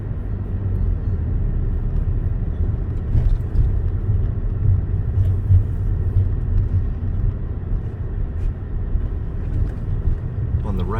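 Internal combustion car driving through downtown Fort Lauderdale, a steady low engine and road rumble heard from inside the cabin, even and continuous with slight fluctuations.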